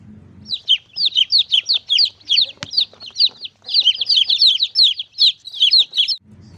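Rapid, high-pitched peeping of a young chick, repeated in quick bursts of chirps that run on for several seconds, close and clear.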